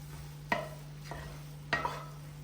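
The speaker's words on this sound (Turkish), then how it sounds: "Şimdi bunu da güzelce karıştıralım." Utensil scraping and stirring through food in a pan, three brief strokes over a steady low hum, no voices.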